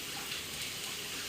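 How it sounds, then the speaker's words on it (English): Tap water runs steadily into a kitchen sink while hands are washed, a constant close, soft hiss of flowing water with no pauses. "I'm gonna wash my hands."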